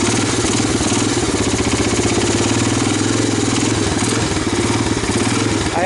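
A 1985 Honda 250ES ATC, once abandoned for twenty years with a stuck valve, runs with a steady, loud close-up engine idle that chugs evenly throughout with no one talking.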